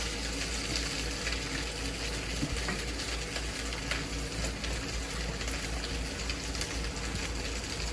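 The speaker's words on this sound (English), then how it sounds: "we're gonna pour some broth into these bowls right here" Hot broth poured into bowls for homemade fried wonton soup in a warm kitchen, a steady continuous liquid gush that runs evenly throughout at moderate loudness, with no talking.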